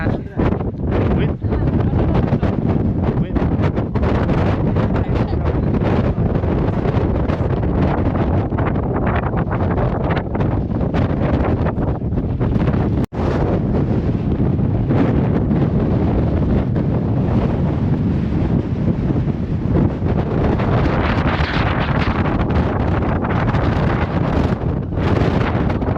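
A strong windstorm at Zabriskie Point in Death Valley, California, roars steadily and loudly against the microphone for the whole stretch, with heavy buffeting gusts and a brief dropout midway.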